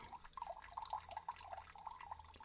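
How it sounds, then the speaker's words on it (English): Water is poured into a drinking glass, a close, bubbly trickle with small gurgles and drips running for a couple of seconds without talk. "we're going to pour, because, I can't do nothing but water right now"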